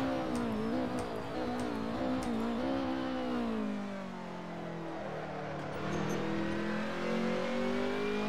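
A race car engine in the Assetto Corsa video game drones loudly and continuously, its pitch wavering and dipping through gear changes before climbing again, alone without voices.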